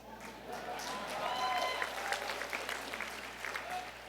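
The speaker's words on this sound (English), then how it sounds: "You can clap, it's okay." Applause at a university commencement, a moderately quiet crowd clapping from a distance that swells and then thins out, with a steady low hum and faint voices underneath.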